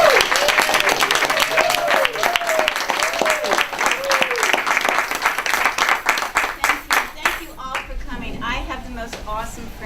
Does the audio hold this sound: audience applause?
yes